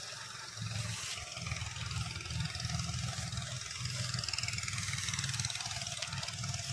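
A farm machine engine runs during a palay rice harvest in the field, a steady loud drone that holds on without pause.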